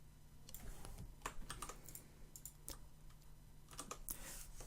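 Quiet keystrokes on a computer keyboard as a command is typed, irregular close clicks arriving in small clusters with short gaps, soft and unaccompanied by talk.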